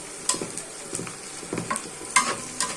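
Onion, green chili and garlic frying in a pan, a steady light sizzle broken by several sharp clicks and scrapes of a spatula stirring, close and fairly quiet with no talking.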